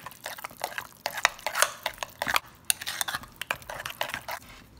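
A spoon stirs cucumber raita made with plain yogurt in a bowl, giving continuous wet squelching and soft clinking against the bowl, steady and close with no voices.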